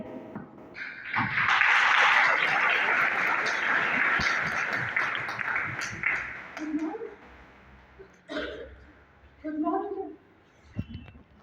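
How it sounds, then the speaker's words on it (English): A school audience at a National Youth Day celebration claps steadily for several seconds, a broad wash of applause that fades before a few thumps and a voice nearby. "Let us encourage her with a big round of applause"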